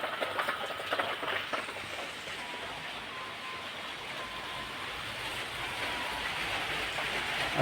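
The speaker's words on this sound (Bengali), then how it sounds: "বাইরে প্রচুর বৃষ্টি হচ্ছে।" Heavy rain pouring outside, a constant broadband wash heard from indoors near a window, fairly steady with slight swells and a few faint tonal hums.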